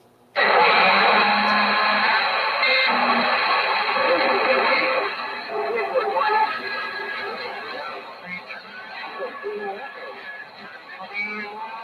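CB radio receiver hiss and static noise, loud and continuous with a wash of band noise, easing somewhat partway through, with faint garbled voices buried in the crackle.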